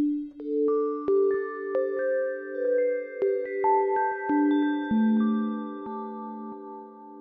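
Bell-like synth lead preset on a Waldorf PPG Wave 3.V, playing a slow melodic line of sustained, overlapping tones with a bright chiming edge, loud and close with no voices.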